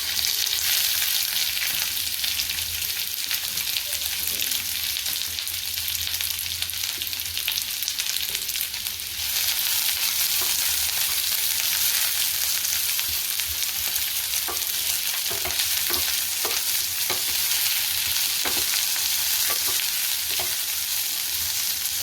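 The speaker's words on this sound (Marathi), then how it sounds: "तेल घालते थोडं पॅनमध्ये, त्याच्यामध्ये आपल्याला हा कांदा परतायचा आहे" Onion fries in oil in a pan for misal pav, a loud continuous close sizzle with soft crackles and a few light stirring taps in the later part.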